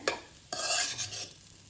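Capsicum rice bath being stirred and fried in a hot pan gives two scraping, sizzling bursts of stirring close by, with a quieter sizzle trailing off, and no one speaking.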